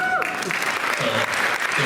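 At an alumni celebration showtime, an audience applauds the oldest alumni member from the original 1976 class. A dense, steady wash of clapping is heard, with a voice briefly over it at the start.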